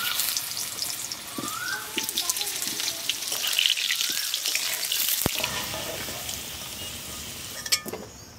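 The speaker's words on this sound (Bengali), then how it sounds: "ফাইনালি এবার মাংস রান্না হবে, তার জন্য কড়াইতে তেল দিয়ে দিচ্ছি, সর্ষের তেল।" Meat frying in mustard oil in a wok (kadai) for a home-cooked curry: a close, continuous hiss and sizzle with scattered crackles and one sharp pop near the end.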